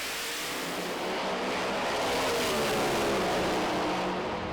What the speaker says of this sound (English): Nitrous Willis on the far side, taking on supercharged 51 Chevy on the near side